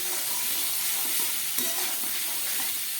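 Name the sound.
boiled jackfruit frying and stirred in a pan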